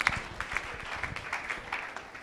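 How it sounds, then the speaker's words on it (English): Applause from an audience at a UniAbuja university ceremony, as a veterinary medicine faculty professor is introduced; scattered, fairly faint clapping continues steadily for about two seconds, sounding somewhat distant. "Let's give him a round of applause, please."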